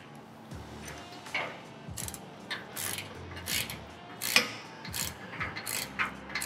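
A hand ratchet tightens bolts on the cargo tray of a Polaris General 1000 side-by-side, giving repeated bursts of quick clicking strokes with short pauses between them, close and clear.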